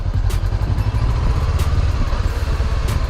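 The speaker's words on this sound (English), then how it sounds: "So open the throttle super slow." A motorcycle engine runs loud and close as the throttle is eased open very slowly, a steady low rumbling putter with slight unevenness throughout.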